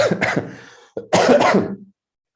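A couple of harsh, phlegmy coughs and throat-clearing bursts from a person with a cold, close and loud, separated by a short pause.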